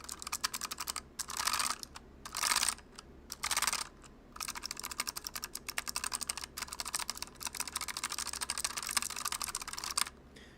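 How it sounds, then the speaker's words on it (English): Rapid typing on a clicky mechanical keyboard, bursts of sharp key clicks with short pauses between, close and fairly quiet, no voices. "This was a clicky keyboard,"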